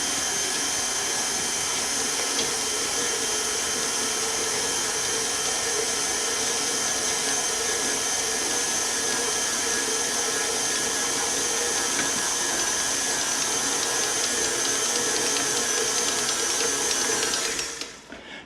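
A stand mixer kneading garlic pepper cheddar bread dough runs with a loud, steady motor whine and hum, close and unbroken for the whole stretch before stopping abruptly at the very end.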